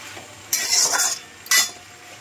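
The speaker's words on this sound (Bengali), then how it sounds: "কালো জিরে ফোড়ন দিয়ে আলু ভাজা করছি।" Potatoes fry in oil tempered with nigella seeds, with a faint sizzle broken by two brisk scraping stirs of a spatula against the pan.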